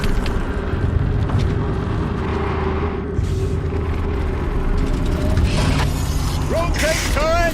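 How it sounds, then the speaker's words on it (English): A mechanical turret in Horizon Zero Dawn grinds as it rotates, a steady loud whirring and clanking rumble over game ambience, ending with a few rising whistle-like electronic tones. "Rotate turret!"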